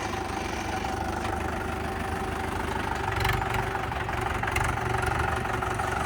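A Swaraj 855 tractor's diesel engine idles steadily with a rough, uneven, misfiring beat, running continuously with no voices.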